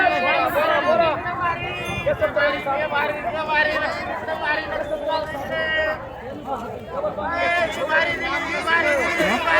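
A dense crowd at a busy Diwali weekly market, overlapping voices and lively chatter close by forming a constant babble with some shouts rising above it.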